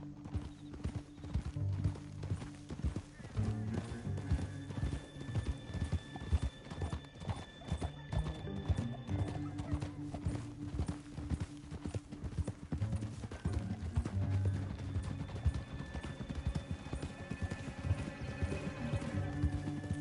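Galloping hooves pound rapidly alongside a horse's whinny over steady game music in Red Dead Redemption 2, busy and continuous throughout.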